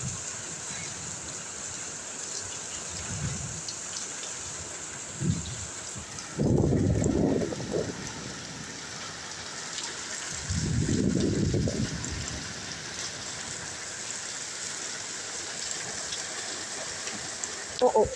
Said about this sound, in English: This is one of the heaviest rain that I have seen.